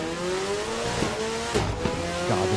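Race car engine in the racing video game Project Motor Racing, a loud close whine with rising revs and gear changes, brief tire squeal mixed in, no talking.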